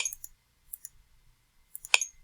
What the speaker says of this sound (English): you're going to just keep clicking next